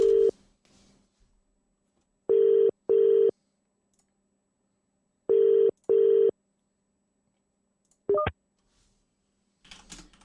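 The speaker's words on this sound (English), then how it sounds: "Right, I'm ringing Juan Creamy boy" An outgoing phone call to a radio phone-in show: two pairs of double-burst ringing tones sound close and clear, followed by a short electronic beep as the line connects, with faint background noise between.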